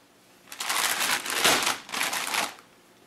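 Scissors snipping open a plastic packet of Rockets candy, a close, crinkly rustle of bursts with a brief pause midway, no voices over it.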